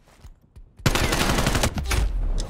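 Sustained automatic gunfire in Black Ops Cold War erupts after a few quiet moments, loud and rapid with dense overlapping shots that continue to the end.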